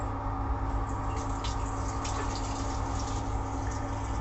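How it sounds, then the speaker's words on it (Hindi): Water runs from a lifted tap lever in an AC sleeper compartment of a Lahore to Karachi express train, a steady low hiss under strong train rumble and hum, with no talking. "इसको ऊपर करोगे तो नीचे से पानी निकलेगा"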